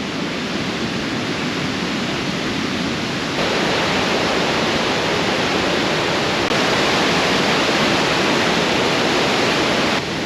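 The waterfalls at Si Phan Don in Laos send out a steady, dense rushing roar of falling water, loud and continuous throughout with no voices over it.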